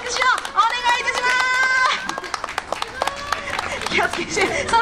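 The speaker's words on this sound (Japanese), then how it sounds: "はい、拍手をお願いいたします" Audience applause at a monkey show performance, a burst of clapping mixed with a presenter's voice talking over it, close and lively.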